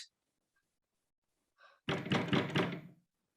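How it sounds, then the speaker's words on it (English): A stage sound effect in a theatre production of Macbeth: a soft tap followed by a loud, close burst of heavy knocking on a door, several rapid thumping blows over about a second. "Whence is that knocking?"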